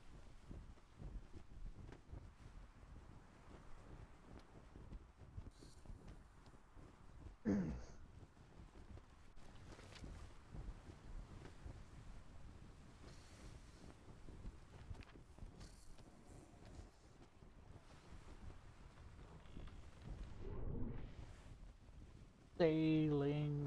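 A sailing ship at sea in the video game Atlas, with faint, steady wind and water hiss throughout and a brief louder bump near the end.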